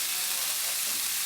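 Radish leaves with a little turmeric sizzle in a pan as they are fried and stirred, a brief steady hiss at moderate level.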